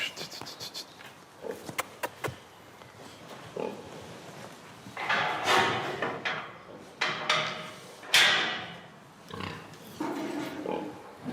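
Pigs grunting and snorting in a farm pig maternity ward, with irregular close grunts and squeals over rustling straw and movement.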